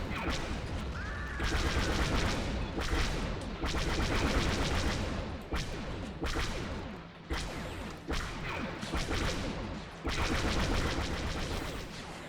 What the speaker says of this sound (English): Side gun opening fire there.